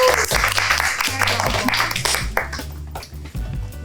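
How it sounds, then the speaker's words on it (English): Families applaud the young chefs at a kids' cooking demo making southwest snack pizzas, scattered clapping mixed with music and chatter in an indoor room. "Let's have a round of applause for our chefs"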